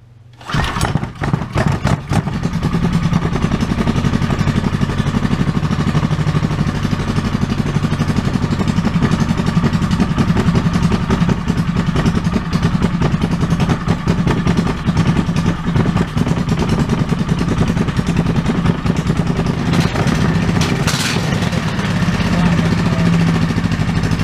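A Predator 420cc small engine fitted with a stage 1 kit and governor removed cranks, catches and keeps running, a loud close rough clattering roar that holds steady for over twenty seconds.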